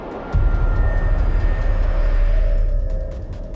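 A jump plane's engine drones loud and steady, with a deep continuous rumble that swells in just after the start and holds, easing slightly near the end.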